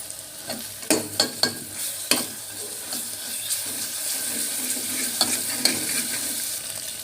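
Onions frying with ginger paste in a pan for a brinjal curry, a steady near sizzle broken by a quick run of sharp spoon clacks and scrapes early on, then more stirring knocks; no one talks.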